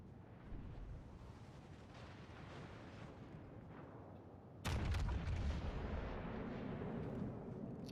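Naval guns firing during a video game sea battle among many warships, heard as a continuous rumbling barrage that jumps to a louder, heavier burst of booming fire midway and stays dense to the end, with no talk.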